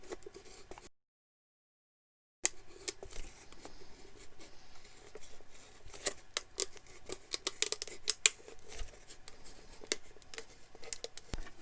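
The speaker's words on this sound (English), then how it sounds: "Now I'll take my scissors" Scissors cut into a plastic bottle while shaping bottle flowers, producing irregular crisp snips and crackling plastic close up, starting after a brief silent gap and continuing in uneven bursts.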